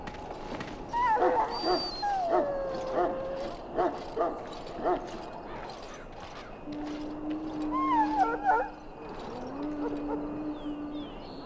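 Dog in the Dragon Age: Origins video game, whimpering and letting out a series of short yips and barks, close and moderately loud, with a few longer whines over a steady low background hum.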